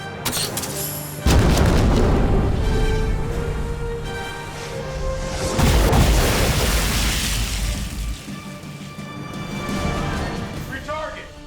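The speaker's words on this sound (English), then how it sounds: "Fire the main gun!" Battleship main guns fire in a sci-fi action movie: two heavy booms with long rumbling tails, the second louder, amid shouted commands, metallic clangs and a tonal musical score.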